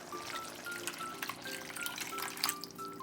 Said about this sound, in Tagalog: lagyan natin ng